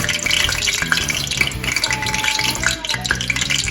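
Flour-coated ribs fry in hot grease on medium-high heat, a loud, dense, close crackling sizzle that continues without pause.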